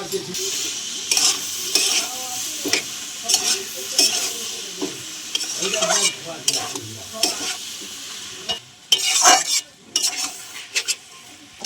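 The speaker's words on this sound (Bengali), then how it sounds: "ভালো করে একটুখানি কষিয়ে নেব" Cabbage and paneer curry sautéing in oil with spices and poppy seed paste in a pan, a continuous close sizzle broken by repeated scraping stirs of a spoon against the pan, with no talking.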